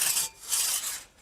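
Hand saw cutting a tree in a forest, rough rasping strokes back and forth, close and fairly loud, three pulses in quick rhythm.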